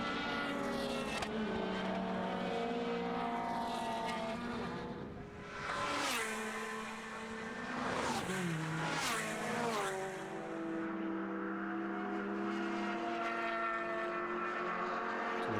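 A prepared, lightened Lotus Exige race car roars past at Snetterton circuit, its engine note climbing and dropping through gear changes, with several loud passes and a fading tail.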